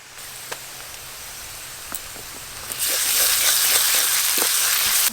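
Ground spice paste hits fried onions in a pan for chicken kosha, and the moderate sizzle swells abruptly into a louder, denser hiss that holds steady.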